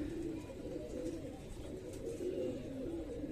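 Soft, continuous low cooing of pigeons on a net, faint and somewhat distant, with no other voices.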